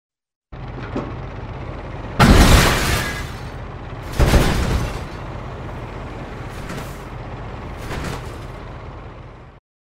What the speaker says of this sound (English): I have a short video here of a car smashing